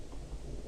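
A short low rumble of thunder plays in a survival-games video game when a player dies, a dull, muffled boom filling the background, with no talking.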